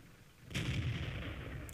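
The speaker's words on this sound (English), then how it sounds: "So he's going to fire a blind shot," A single muffled tank gun shot in World of Tanks, a T32 firing blind, thumps in at once with a broad boom and then rolls on as a sustained low rumble to the end, with no voices.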